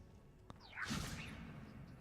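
A Wingardium Leviosa levitation spell is cast in the Hogwarts Legacy video game, a quick whooshing magical swish followed by a brief sustained shimmer, heard alone without talk.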